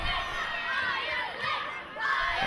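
A capacity crowd at a professional wrestling event roars and cheers continuously, a dense wall of shouting voices that swells and dips but never stops.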